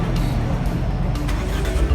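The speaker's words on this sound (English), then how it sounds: "There is a truck as well." A truck rumbles along a treacherous mountain road in Spiti, a steady low engine drone close by, with faint clanks and rattles and no talk.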